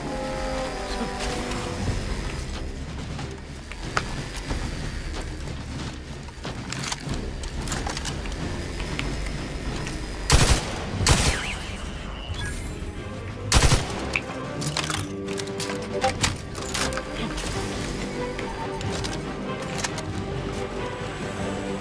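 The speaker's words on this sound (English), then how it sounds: "it never hurts to throw an extra bullet that way" Video game gunfire in The Outer Worlds plays over a steady bed of game music and ambience, with a few sharp shot bursts standing out near the middle.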